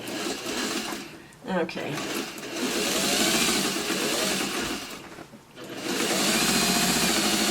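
A sewing machine quilts a piano key border, running in a continuous loud mechanical whir that pauses briefly twice, with a short spoken word in between.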